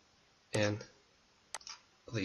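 Mouse clicks in CAD software, a couple of brief, sharp taps spaced about a second apart, heard close and clear between bursts of a person speaking.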